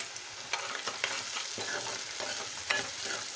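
Onions frying with a pinch of salt in a pan, a steady close sizzle with light stirring scrapes and a few sharp clinks, no voices.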